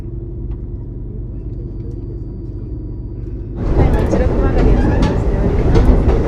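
Two Japanese sightseeing express trains, the Kanpachi and the Yufuin no Mori, pass each other close by: a steady low drone suddenly swells into a louder, broadband roar of rolling wheels and rushing air.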